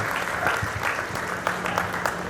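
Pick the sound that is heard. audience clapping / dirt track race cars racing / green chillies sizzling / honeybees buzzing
audience clapping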